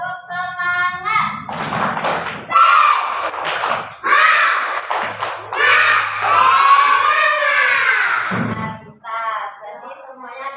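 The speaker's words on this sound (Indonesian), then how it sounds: "Coba tepuk semangat." Fourth-grade schoolchildren in a classroom perform a rhythmic clapping chant, loud group claps interleaved with shouted, sung voices of many children in a lively cadence.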